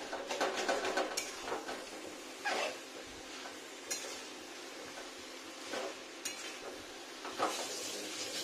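Cabbage frying in fish oil in a pan for a Bengali home-style dish, with a soft steady sizzle broken by scrapes and clinks of a spatula stirring against the metal, close and moderate in level, no voices.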